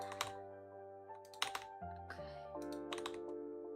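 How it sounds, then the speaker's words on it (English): Someone types on a computer keyboard in quick, uneven bursts of light clicks. The typing is faint and sits beneath steady background musical tones. "It's not even like smooth typing. This is just like painful typing."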